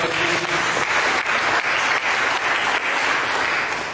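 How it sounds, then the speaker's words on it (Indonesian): A church congregation applauding together, a dense, sustained wash of many hands clapping at close range, steady throughout with no break. "Mari kita berikan tepuk tangan."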